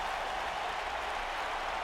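A sold-out Manchester Arena crowd at a WWE 2K wrestling show, a dense, steady wash of cheering and applause filling the space without pause.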